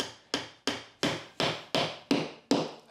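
Hammer blows driving a nail into a wooden beehive brood frame, eight sharp, evenly spaced strikes about a third of a second apart, close and loud with no talking.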